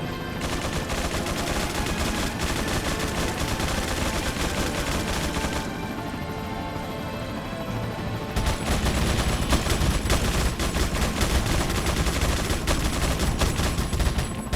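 A minigun fires in Resident Evil 4 (2005) with continuous, dense, loud rapid fire and heavy mechanical rattling that keeps up throughout, briefly thinning in the middle before surging back heavier.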